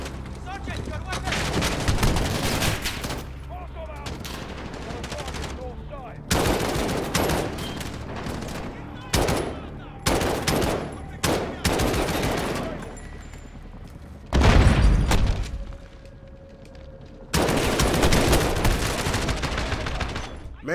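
Gunfire in a Call of Duty Modern Warfare campaign battle against Russian forces: loud, close volleys come in separate heavy bursts with short lulls between them, mixed with booming impacts.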